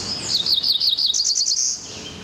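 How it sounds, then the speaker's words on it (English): A male cerulean warbler sings a loud, close, rapid series of buzzy trilled notes that climb in pitch, heard alone for about two seconds. "It's a sound that's disappearing in New Jersey, the song of a male cerulean warbler."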